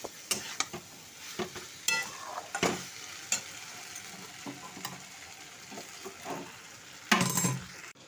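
Potatoes being stirred and sizzling in a home cooking pot, with a spoon scraping and clinking against the metal in irregular strokes over a steady fry hiss, close by.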